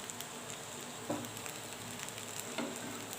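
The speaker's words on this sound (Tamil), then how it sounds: "வெண்டைக்காயும் நல்லா ஃப்ரை ஆகிட்டுருக்கு இன்னும் கொஞ்சம் ஃப்ரை ஆகட்டும்" Okra fries in a pan with a continuous close sizzle and crackle, broken by two brief scraping stirs, with no voices over it.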